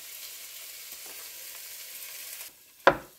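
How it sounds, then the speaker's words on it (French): Onions frying for a bolognese sauce, a soft hiss of sizzling that stops abruptly, followed by a single sharp clunk near the end. "Ici, ça fristouille."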